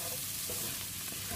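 Vegetables and egg for fried rice sizzle in a hot pan while being stirred, giving a brief, steady frying hiss with soft scraping of the utensil.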